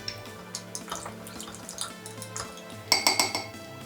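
Yeast being stirred into water in a bowl for focaccia dough, giving soft intermittent clinks and light scraping, with a sharper burst of ringing clinks near the end.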